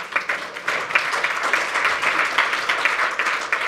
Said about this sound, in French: Je voudrais aussi qu'on les applaudisse parce que c'est pas commun.